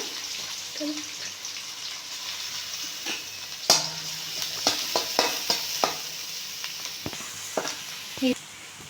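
Onions frying in a pan with a soft sizzle, broken by several sharp stirring and scraping knocks of a spoon against the pan, close and fairly quiet, with brief talk near the start.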